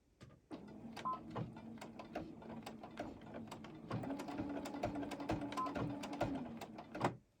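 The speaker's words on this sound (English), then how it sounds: "now I'm going to put my straight stitch on and just go up and down with it." A sewing machine runs a straight stitch across a T-shirt quilt block, a steady mechanical whirring with rapid needle ticks and brief pauses, fairly close and alone.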